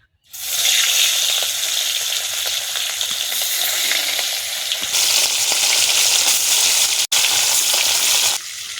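Fish, a Bengali aila, frying in hot oil in a kadai wok, giving a loud, steady, continuous sizzle and crackle that starts abruptly, with one short dropout near the end.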